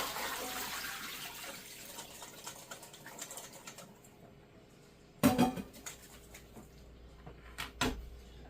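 Cooked potato and carrot chunks are drained out of water in a kitchen for an Instant Pot roast, giving a soft running, splashing rush that fades, followed by a couple of sharp knocks and clatters.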